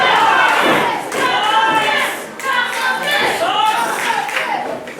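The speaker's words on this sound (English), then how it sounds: "Crowd trying to get behind Jungle Jim again." Wrestling crowd at ringside cheering, shouting and clapping in support of Jungle Jim, a loud dense roar with rising swells and scattered claps throughout.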